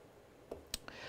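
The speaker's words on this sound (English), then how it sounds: "Let me double click." Computer mouse clicked on a desktop to launch the iDrop application: a few quick, crisp clicks, close and quiet in a still room, with no talking.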